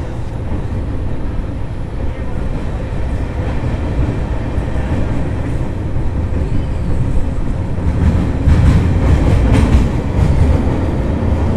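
Pamban Express passenger train rolling across Pamban bridge toward Rameswaram, a steady loud rumble of wheels and carriages with clattering rail joints, swelling slightly louder near the end, no talk.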